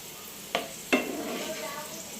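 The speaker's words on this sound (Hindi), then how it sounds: "मुनक्के बहुत अच्छे पफ होते, तो मुझे ये फ्राई करना बहुत पसंद आता।" Raisins fry in a pan for sheer khurma, a soft, quiet sizzle broken by two sharp stirring clinks against the pan early on.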